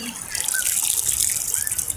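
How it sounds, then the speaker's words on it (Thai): Water runs and splashes steadily throughout, a close, continuous hiss like a tap or shower pouring while animals are washed and bathed. "อาบน้ำก่อนดีกว่า ล้างเลย ล้างเลย"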